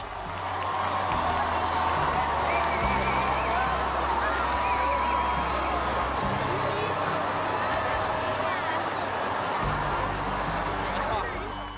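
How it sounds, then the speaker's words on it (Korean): Spectators cheer along the finish stretch of the Boston Marathon as the leading runner approaches, a dense and continuous roar of crowd noise with busy babble, loud and steady throughout. "시민들이 환호합니다."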